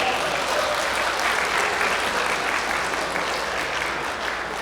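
Wedding guests in a hotel grand ballroom break into vigorous applause as the ceremony begins, a loud, thick and sustained clatter of many hands that holds steady throughout.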